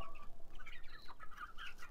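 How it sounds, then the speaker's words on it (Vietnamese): Short-legged chickens cluck softly in a backyard coop, a few quiet overlapping calls close by against faint background noise. "đây là chuồng gà của mẹ mình. Gà đây là gà chân lùn"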